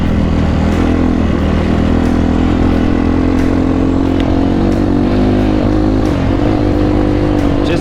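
A MotoPro 300 motorcycle engine drones steadily at close range, with its pitch rising and falling as the rider accelerates and eases off, with engine braking.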